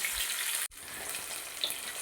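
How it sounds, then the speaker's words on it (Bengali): Katla fish pieces fry in oil with a bright, continuous sizzle that drops out for an instant partway through, then resumes just as strong and close. "দেখুন আমার মাছ ভাজা হয়ে এসেছে"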